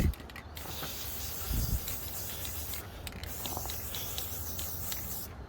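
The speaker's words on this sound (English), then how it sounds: "Just galvanized black zinc coat because no rust is ideal." An aerosol can sprays black galvanized zinc coating onto a ground-down metal front plate in short hissing bursts with brief gaps, close and moderately faint, with a few small clicks and rattles.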